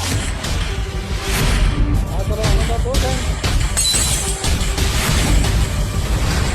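Glass breaks and shatters with a sharp crash amid a tense dramatic scene, followed by scattered tinkling fragments and whooshing effects over background music.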